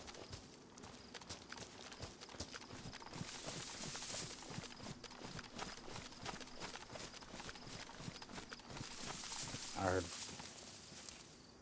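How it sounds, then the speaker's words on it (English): Rapid running footsteps in the video game DayZ, a steady patter of steps under continuous ambient game noise with people talking over it, plus a brief louder burst near the end. "I thought I heard running footsteps coming into here."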